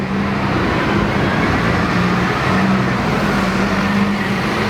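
Steady road traffic with cars passing close by on a street in Bruges, Belgium, a continuous loud engine and tyre rumble with no talking.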